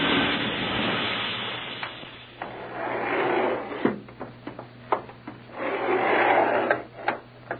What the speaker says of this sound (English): Sounds like another elevator coming.